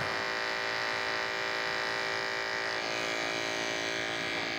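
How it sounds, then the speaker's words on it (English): Electric hair clippers buzz in a continuous, even drone while cutting a taper fade, close to the microphone with no talking. "angle my clipper like such, bring it around here and move that wave"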